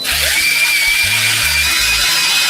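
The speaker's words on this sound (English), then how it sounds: "before we go in with our drill" A power drill spinning a cleaning brush scrubs Yeezy 350 sneakers dipped in cleaning solution, giving a loud, steady whine with a low pulsing rumble as the bristles work the shoe.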